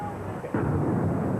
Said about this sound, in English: Hours after the attack, many smaller explosions rumbled through downtown.